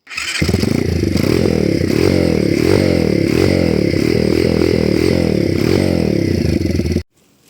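A pit bike engine runs loudly and steadily at close range, its kickstarter rattling metallically from the vibration throughout before the engine abruptly cuts off.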